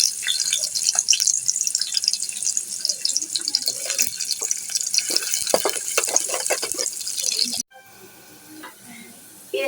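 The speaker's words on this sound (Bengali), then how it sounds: "এখন দিয়ে দিচ্ছি তেল, পেঁয়াজ দিয়ে দিচ্ছি" Sliced onions hit hot oil in a pot for a dried-fish curry, giving a loud, close, crackling sizzle that runs steadily for several seconds before dropping away abruptly to a quiet hiss.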